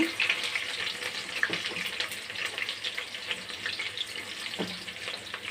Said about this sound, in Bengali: গরম হয়ে গেছে ওর মধ্যে দিয়ে দেব পাঁচ ফোড়ন পেঁয়াজ কুচুরি কাঁচা লঙ্কা